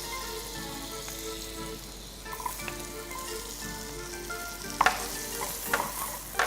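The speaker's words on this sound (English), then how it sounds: "Now just cook your garlic until it's kind of getting a bit brown and you think that it's cooked well." Garlic frying in melted butter in a saucepan, a steady close sizzle with a few sharper stirring scrapes toward the end.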